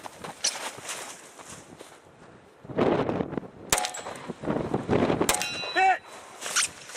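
Pistol rounds from a compensated Glock 23C ring off steel targets at a night shooting range, a few sharp metallic clangs with bright ringing tails scattered between shuffling movement and background noise.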